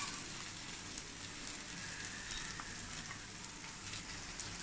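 Ground paste hits sautéed raw mango in a hot pan, producing a steady, soft frying sizzle that hisses evenly throughout, faint and close with no talking.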